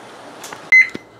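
A single sharp electronic beep rings out loudly against a quiet background, followed by a brief click.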